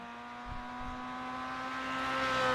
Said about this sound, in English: Bjorn in the Oldsmobile here, making sure he gets those downshifts.